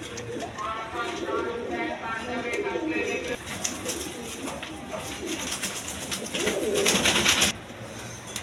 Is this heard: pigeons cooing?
yes